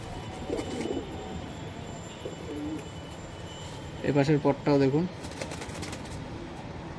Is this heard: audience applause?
no